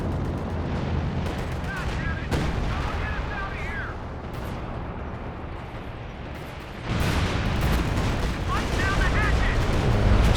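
An artillery barrage pounds the battlefield in a 2v2 Company of Heroes 2 match as a dense, continuous roar of rumbling blasts and distant booms, with faint chirping battle effects and a swell in intensity partway through.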